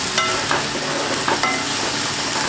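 Garlic paste being stir-fried in a pan over low-to-medium heat for a Peshwari chicken dish, with steady close sizzling and a few scraping stirs running through without pause.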